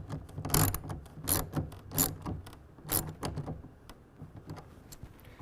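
A torque wrench snugs down a rail clamp on a hard fold tonneau cover on a 2023 Ford F-250 HD pickup bed. A close series of short ratcheting clicks comes in uneven bursts that taper off, with no talking.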